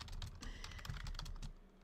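Typing on a computer keyboard, with a fast and slightly irregular run of key clicks close to the mic for about two seconds, no voices.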